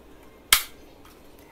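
A single sharp pop from a black toy pistol as its trigger is pulled, close and brief, followed by a fainter click or two.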